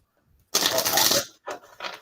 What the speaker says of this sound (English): Let me shuffle these cards a little bit.